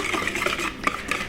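A hand whisk beats melted butter into an egg-sugar mixture in a bowl for a cake dessert, giving a steady, close rapid scraping and clinking of wire against the bowl with no talk.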